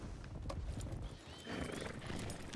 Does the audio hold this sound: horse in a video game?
yes